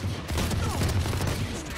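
Dense, overlapping gunfire in a team deathmatch video game forms a continuous rattling barrage from start to finish, with no clear breaks between shots.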